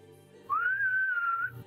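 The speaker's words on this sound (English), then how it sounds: "I'm going to kind of just like whistle out loud for everybody to wake up" A single loud, sustained whistled note from a person, rising slightly and holding steady for about a second, heard alone.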